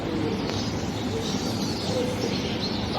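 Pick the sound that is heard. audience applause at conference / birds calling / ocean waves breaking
birds calling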